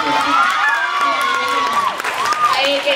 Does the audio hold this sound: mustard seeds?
no